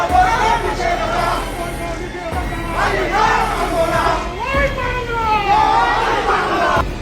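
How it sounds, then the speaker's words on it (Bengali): A crowd chanting slogans in a Jubo League street procession on a town road: many voices shouting together in rising and falling chant phrases, loud and close, with crowd noise underneath. "সেখানে দেখানো হয় শহরের গরিবশা রোডে মিছিল থেকে বিভিন্ন স্লোগান দেওয়া হচ্ছে।"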